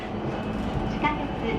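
A Yamanote line commuter train in Tokyo rolls along with a steady, close interior rumble and a brief squeal partway through, heard from inside the carriage.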